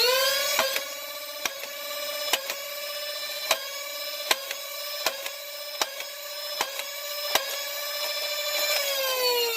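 Nerf Endwar blaster (2018 build) firing full-length Elite foam darts: a steady high motor whine with about nine sharp, evenly spaced shots punctuating it, loud and close, no talking.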